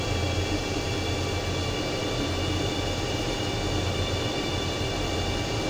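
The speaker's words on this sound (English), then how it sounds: "We've already received clearance to take off, so we're going to check final and we're going to head out." Steady, loud broadband roar of a simulated airliner's engines at takeoff power in a flight simulator, continuous and unchanging with a faint low hum, no talking.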